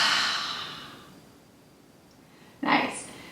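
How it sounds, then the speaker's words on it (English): Ujjayi breath exhale, a long soft throaty hiss fading out, followed by a sharper, brief breathy exhalation near the end. "It's kind of that sound that you're making when you're exhaling."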